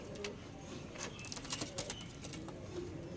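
Pigeons kept for sale coo faintly in a loft, with soft scattered calls and light rustling at a low level.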